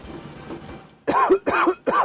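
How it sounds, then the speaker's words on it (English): Three loud, close coughs burst into a microphone in quick succession after a second of faint background murmur, each harsh and throaty. "Sorry for coughing in the mic."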